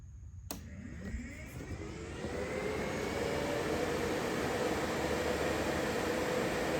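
An electric radiator cooling fan on a vehicle starts with a click and spins up into a steady, fairly quiet whooshing hum that builds over a couple of seconds and then holds even.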